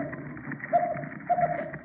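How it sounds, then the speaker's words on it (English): Ambon damselfish calling on a coral reef, captured by an underwater recorder: two short, moderately loud pulsed grunts stand out over a constant murmuring reef background, with no talking. "this is called an ambon damselfish, and it makes a sound that sounds a bit like this"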